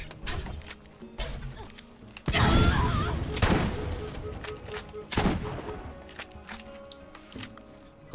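Gunfire in the Borderlands video game: heavy shotgun blasts boom out in a few loud separate bursts with rattling, clattering mechanical noise and softer game sounds between shots.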